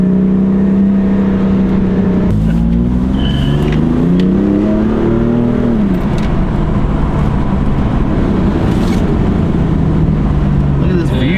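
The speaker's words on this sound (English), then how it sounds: "There goes the crank up." A BMW M4 engine cranks up and revs, its loud, steady drone rising in pitch over a few seconds and then falling back to a constant roar, with a voice speaking briefly over it.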